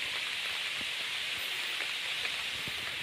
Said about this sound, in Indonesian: Habis ditanam langsung turun hujan.